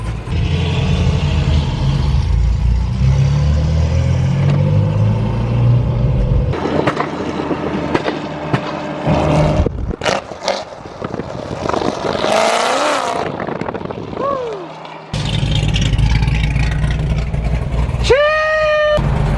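Loud 1000-horsepower C7 Corvette Z06 engine revving hard at close range, with sharp bursts, dropouts and roaring swells across the clip.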